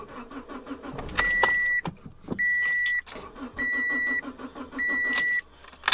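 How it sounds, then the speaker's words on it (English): A Toyota Corolla XRS with a reflashed ECU fails to start while its immobilizer blocks it: repeated electronic chimes sound in bursts as the key is turned, with brief clicks and motor whirs between them and no engine catching. "This is what happens when you try to start it without doing this next step."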